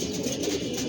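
A racing pigeon settles onto a house roof after a 35 km tournament race, its low continuous cooing close and steady through the whole second with no talk.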